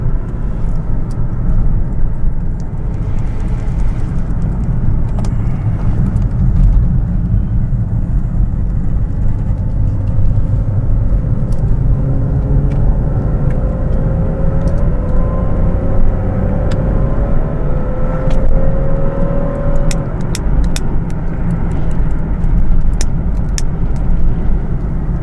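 A car climbs the Col de la Bonnette mountain road with a steady, loud engine rumble and road noise inside the cabin. Engine pitch rises gradually as it labours uphill, and occasional small knocks break through.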